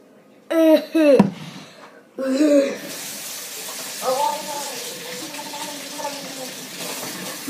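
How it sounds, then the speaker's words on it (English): Tap water runs steadily into a sink while someone washes their face, a soft continuous hiss starting after a few seconds, with voices talking loudly over it. "Let's wash my face off."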